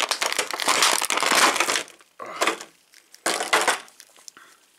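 Plastic toy packaging crinkling and crackling in close, loud bursts with short pauses as a G.I. Joe Classified Dr. Mindbender action figure is pulled out.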